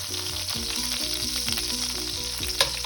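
Pork belly for chashu sizzles steadily in a hot pan after being seared on all four sides, a continuous close frying hiss with a few small crackles and pops, no voices.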